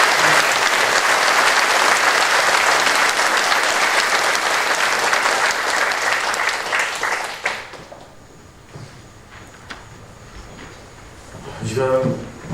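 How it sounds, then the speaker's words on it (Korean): Loud, dense applause from a church congregation during a Sunday afternoon service, lasting about seven seconds before cutting off to quieter room sounds and a speaking voice. "칭찬 박수 부탁드립니다"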